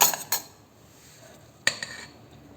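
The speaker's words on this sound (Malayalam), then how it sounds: "നമ്മുടെ ടിഫിൻ ബോക്സിലേക്ക് ആവശ്യത്തിന് ചോറ് ചേർത്ത് കൊടുക്കാം" Rice is spooned into a metal tiffin lunch box, producing a few sharp, close clinks of the spoon against the container, separated by quiet pauses.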